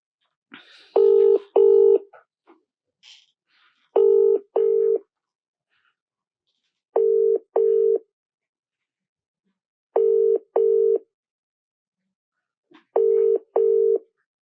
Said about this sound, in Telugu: మనకి ఫోన్ రింగ్ అవుతుంది